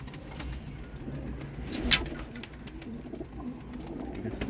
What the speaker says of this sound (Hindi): ये हैं दो गलोदू कबूतर हैं